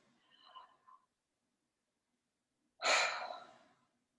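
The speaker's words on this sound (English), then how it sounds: "everybody's still breathing in through their mouth and out through their mouth" Slow breathing in and out through the mouth during a pranayama breathing class, a faint soft inhale followed after a pause by a louder, longer rushing exhale close by.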